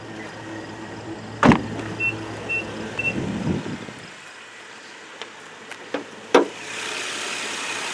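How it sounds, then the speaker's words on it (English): Two sharp mechanical clunks several seconds apart, like a car hood latch releasing and the hood lifting, over a low engine hum. "I'll go and pop the hood real quick."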